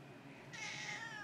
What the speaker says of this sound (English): This is a black tabby.